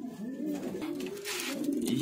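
Grizzle pigeons coo in low, throaty, continuous murmurs, close by, with a faint rustle of wings or movement in the background.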